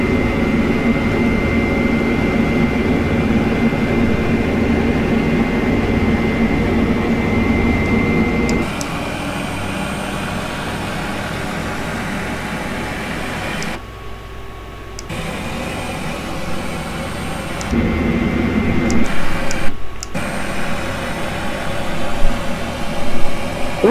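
Helicopter engine in Aerosoft's Reunion flight simulator game, a steady turbine drone and whine that drops in level partway through and briefly cuts out a few times before resuming, with no talking.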